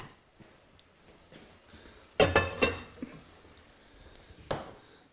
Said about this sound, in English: pasta's done. Just got to drain it now.